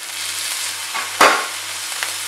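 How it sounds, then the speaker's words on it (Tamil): Roadside-style chicken fried rice with garlic, chili powder, pepper, garam masala and soy sauce frying in a pan: a steady sizzle broken by one sharp stirring scrape and a few lighter ones. "இது நல்லா இப்போ ஃப்ரை ஆகணும்."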